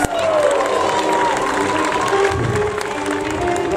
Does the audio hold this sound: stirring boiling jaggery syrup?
no